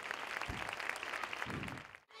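A crowd applauds the newly crowned fair queen at a town fair coronation in Casares, a steady wash of clapping across the whole stretch that cuts off abruptly near the end.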